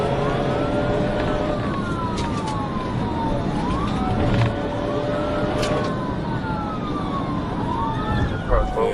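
A loud police siren wails in repeated rising and falling sweeps over steady traffic noise on a road, with a voice briefly present.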